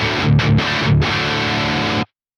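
A high-gain guitar amp's default preset in Archetype: Nolly X: a heavily distorted electric guitar plays a few thick, saturated chords for about two seconds, then cuts off abruptly into silence.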